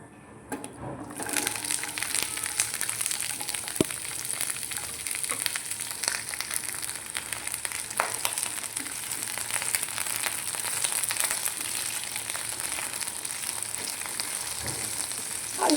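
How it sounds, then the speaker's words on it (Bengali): Vegetables fry lightly in oil left from frying paneer, making a fairly quiet, even sizzling hiss that runs steadily throughout, with a few faint knocks and no speech. "এবার ওই একই তেলে আমি ভেজিটেবলসগুলো ভেজে নেব"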